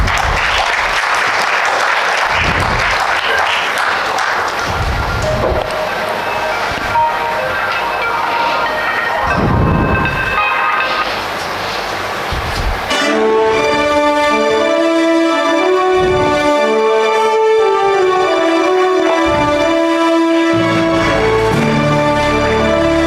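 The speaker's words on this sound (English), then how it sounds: "biggest round of applause" Sustained audience applause at an alumni award felicitation, a broad, steady clapping wash with occasional thumps, and music joining partway through and continuing under the clapping.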